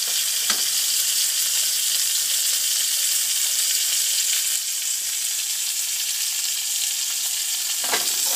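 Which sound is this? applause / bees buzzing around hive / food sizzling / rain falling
food sizzling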